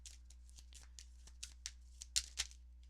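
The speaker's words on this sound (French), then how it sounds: "Et on va aller chercher une dernière carte pour vous." Tarot cards are shuffled and drawn by hand in quiet close-up, giving a run of soft papery flicks and slides that build to a few sharper card snaps near the end.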